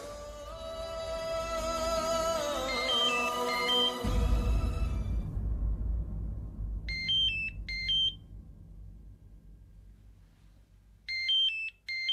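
A phone's electronic ringtone sounds in two short, bright, chirping bursts a few seconds apart after dramatic background music fades out.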